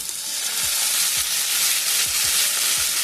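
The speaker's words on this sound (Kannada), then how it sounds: "ಹಾಕ್ಕೊಂಡು ಚೆನ್ನಾಗಿ ಬಾಡೋವರೆಗೂ ಸ್ವಲ್ಪ ಫ್ರೈ ಮಾಡ್ಕೊತೀನಿ" Onions, green chillies, mint and coriander fry in a hot pan for chicken chops, a loud, dense, continuous sizzle with a few soft stirring thumps beneath, heard up close and without talking.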